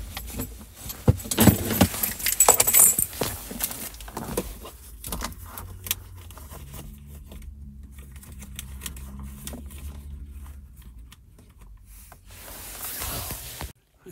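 Car keys jangle and clink in short bursts, close and fairly loud at first, inside a 2021 Ford Mustang Mach-E, then fade to a quiet low cabin hum with a few faint clicks.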